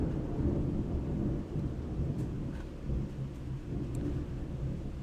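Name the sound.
thunder from lightning outside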